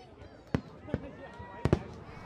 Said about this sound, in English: before the first fireworks fired